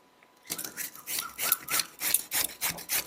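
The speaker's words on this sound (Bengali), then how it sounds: "এইভাবে আমি ছিলনির সাহায্যে পেঁপেটাকে ঘষে নেব।" Raw papaya rubbed down a hand grater for a vegetarian patori cooked in banana leaf, a close run of rhythmic scraping strokes, each a bright rasping burst, steady and alone with no talk.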